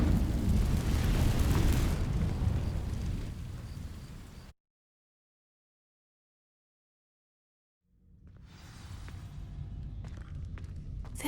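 The Incendio fire spell sets dry vines burning in the Hogwarts Legacy video game: a loud roaring, crackling whoosh that slowly dies away, then silence, then a quieter rumbling rise of fire and movement.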